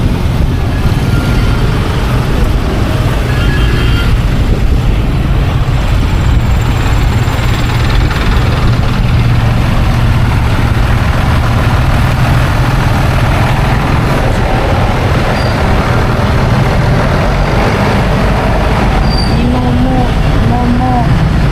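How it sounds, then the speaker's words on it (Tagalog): Busy roadway traffic heard from a moving motorcycle in the Philippines, a steady loud rumble of engines and wind with occasional horn-like tones, continuous throughout with some voices in the background. "Ngayon naman po ang traffic."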